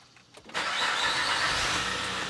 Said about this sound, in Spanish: Prendemos el carro.